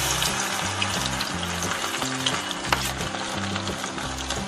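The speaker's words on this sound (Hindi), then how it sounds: "अब इसको हम अच्छे से फ्राई कर लेंगे" Leftover-rice pakoras frying in hot oil in a pan give off a dense, continuous loud sizzle and crackle, steady throughout and close up, with faint background music underneath.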